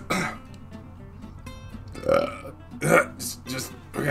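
A burp is forced out, with a loud belch near the start and further burp-like bursts around two and three seconds, over a low steady hum and some faint background voice.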